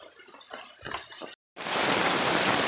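Faint scattered sounds, a brief silence, then a sudden dense, loud hiss of heavy rain pouring steadily until the end.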